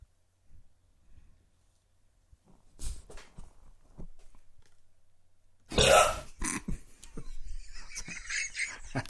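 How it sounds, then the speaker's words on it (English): A sharp, throaty burp from the Cheers TV show bursts out loud after a stretch of near silence, followed by rough lingering noise. "After Carla was finished burping her baby at the bar, whom else did she burp?"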